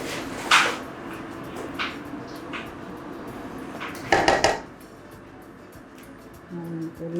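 Fresh fish is lifted out of a pot of Nigerian native soup, with a few scattered clinks of a utensil against the pot and soft kitchen handling noise, close by.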